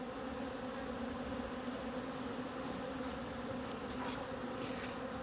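Honeybees buzz steadily at a rooftop hive during an inspection, a dense, continuous drone filling the whole stretch with no talk over it.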